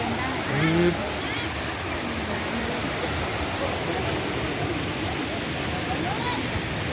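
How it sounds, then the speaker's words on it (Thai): Steady rushing roar of the Pang Sawan waterfall in Uthai Thani, a constant broadband wash of falling water heard up close, with a brief faint voice near the start. "แล้วก็มาถึงแล้วครับน้ำตก"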